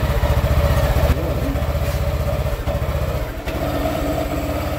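Yamaha Aerox 155 scooter engine turning over and running roughly, a loud, uneven misfiring chug that stumbles and fades toward stalling, with no voices over it.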